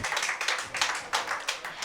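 Audience clapping in a quick, uneven patter at the closing ceremony of a children's art and craft workshop, moderately loud, without any talking.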